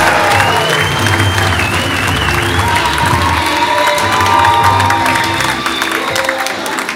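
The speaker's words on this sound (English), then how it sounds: "Big round of applause for Drew Schlatter." Live comedy class show audience giving a sustained burst of applause and cheering for a comedian taking the stage, dense clapping with some whoops throughout, loud and steady.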